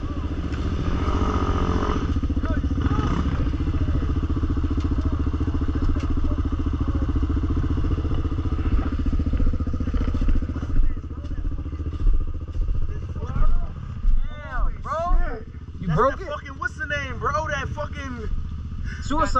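A Yamaha YFZ 450 ATV engine runs close by with a steady, rumbling idle through the first half, then recedes as several people talk excitedly over it.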